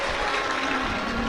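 Loud, sustained applause from a large audience at a Hindu Shiv Mahapuran katha religious discourse, clapping for the host family, dense and steady throughout.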